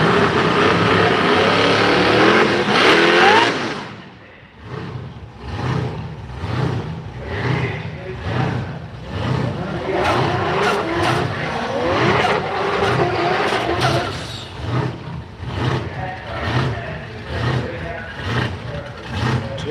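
Supercharged and turbocharged drag racing cars at a street machine drag event, a loud sustained engine roar that cuts off, then a steady stream of revving, popping engines with rhythmic pulses, close and dense throughout.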